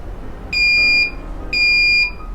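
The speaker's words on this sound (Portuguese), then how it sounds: "Ele deu um bip." A Carbobit Nano CO2 measuring device for a post-mix system beeps after calibration, giving two loud, evenly spaced electronic tones, each about half a second long, in a quiet room.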